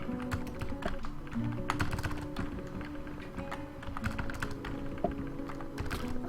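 Computer keyboard keys clicking in a steady flurry of typing taps during a Dwarf Fortress game stream, close and fairly loud over a continuous low hum.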